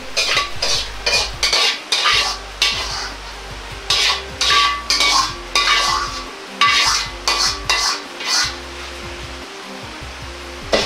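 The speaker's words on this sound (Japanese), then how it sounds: "お玉にチャーハンをすくい入れて" Black fried rice being scooped with a ladle and turned onto a plate, a run of close, rhythmic scraping and clinking strokes of metal against cookware with brief pauses between them.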